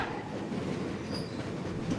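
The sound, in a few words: Jose Cuervo luxury train running on rails in Mexico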